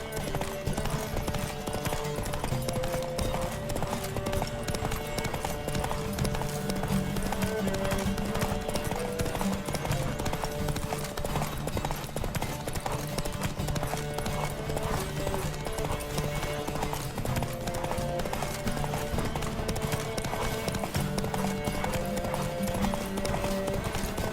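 Horses gallop in The Witcher 3 video game, a steady, loud clip-clop of hooves running throughout with occasional whinnies, layered over game music and ambient noise, with faint shouting at times.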